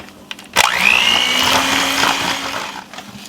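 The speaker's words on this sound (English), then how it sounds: "And then we're going to blend that up." A kitchen blender whirs loudly as it mixes cheesecake filling of cream cheese, lemon rind and water, starting abruptly and running steadily for a few seconds, close and alone.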